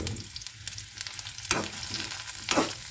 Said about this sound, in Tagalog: Yan, gisa-gisa muna ang fishball bago yung isa.